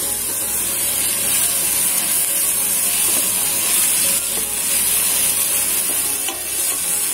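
Onion stirring and frying in a pan on an electric hob, a steady close sizzle with scraping spoon strokes throughout, no voices.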